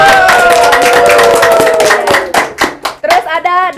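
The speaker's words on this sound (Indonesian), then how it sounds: "Tepuk tangan dulu dong." Students at an online school event clap their hands loudly and close up, dense clapping that thins into scattered claps while voices chatter over it.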